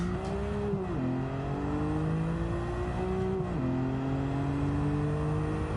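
A car in Gran Turismo 7 launches hard with the turbo maxed out, its engine revving high and climbing steadily in pitch, dropping sharply at two gear shifts before climbing again, loud and close throughout.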